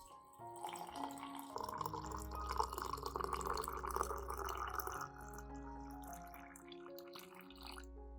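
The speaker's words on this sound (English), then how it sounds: "Finally, I will add 300 milliliters of clean water." 300 milliliters of clean water is poured into a blender jar holding a plant fertilizer mixture of potato, banana peel and oats, a faint, steady trickling and splashing pour lasting several seconds, heard close with no talking.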